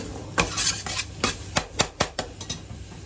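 Garlic and ginger cook in a pan with a little low-calorie spray oil while a utensil stirs them, making a run of crisp, irregular scrapes and clinks over a faint sizzle, close and clear with no talking.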